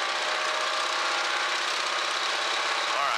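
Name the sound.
North American T-6 Texan aircraft engine run-up to 2,000 RPM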